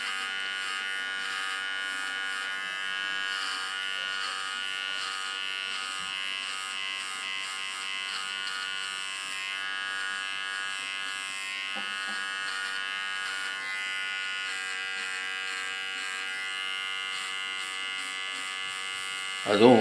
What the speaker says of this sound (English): Holding the clipper flat on his head.